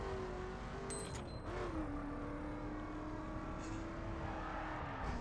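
Steady car engine drone with a rising then level pitch while driving in The Crew racing game, continuous and fairly loud with no talking.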